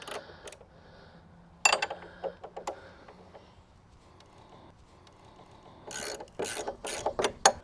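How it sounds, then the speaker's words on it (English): Wrenches tightening bolts on a frame produce bursts of ratcheting clicks and metallic rattles, close and fairly quiet, with pauses between the working strokes. "I'm going to take my wrenches and I'm really going to tighten these down."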